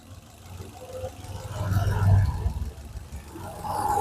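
A 2018 Maruti Swift VXi petrol engine idles with a steady low rumble that swells slightly midway, a faint whir riding above it, heard close and alone.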